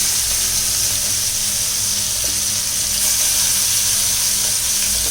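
Large prawns coated in turmeric and chili fry in hot oil with a continuous, even sizzle and hiss, close and fairly loud throughout.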